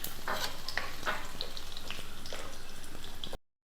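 Fenugreek and dried red chillies, cut in halves, sputter and fry in hot oil for a ripe mango curry, a steady close sizzle broken by crackles and a few sharp pops, with no one speaking.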